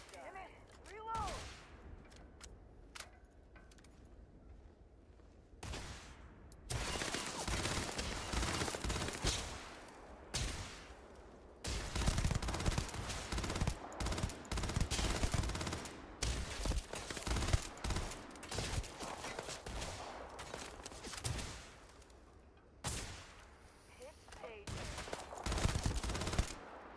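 Sustained automatic gunfire in a war video game, long dense bursts of rapid shots with brief pauses between volleys, loud and close, with someone shouting now and then beneath the shooting.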